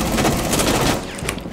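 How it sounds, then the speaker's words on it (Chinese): Sustained gunfire hammers at an enemy's shield during a close-quarters fight in Rainbow Six Siege, a dense burst of rapid shots that cuts off abruptly and then gives way to a few scattered trailing reports. "我要你帮我往他盾一直开枪"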